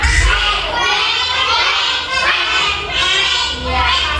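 Classroom of young children imitating a duck's quack together, a loud, lively mix of many small voices rising in repeated bursts across a few seconds, with crowd-like chatter and shuffling beneath.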